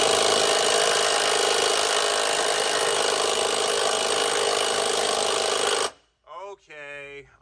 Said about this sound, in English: We got a 3/8 electric gun on a cab mount.